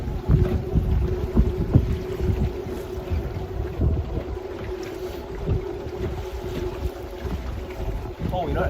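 North wind buffeting a boat on the water, a constant rough rumble of wind noise with irregular gusty thumps and a steady engine-like drone beneath, close to the microphone.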